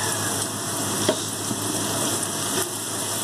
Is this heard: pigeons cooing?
no